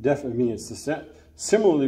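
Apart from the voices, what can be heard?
None of the usual background noises is heard.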